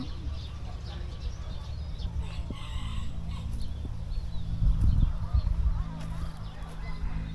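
A rooster crows at moderate distance at a farm-style cafe beside rice paddies, over a low, steady outdoor rumble, with faint background murmur.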